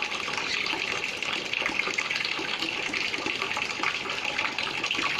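Water gushes through a hole in the pipe of a rose water still, a steady, continuous rushing flow that stays even throughout, fairly close and without talk.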